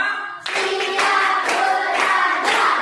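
Classroom of pupils doing a rhythmic focus-clap game, several bursts of unison clapping recurring every half second or so, close and fairly loud, with no voices.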